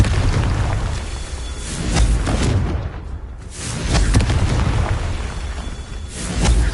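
A Confringo blasting spell goes off repeatedly in Hogwarts Legacy, landing as loud, booming explosions at a steady pace. Each blast rolls out into a rumbling tail before the next one hits.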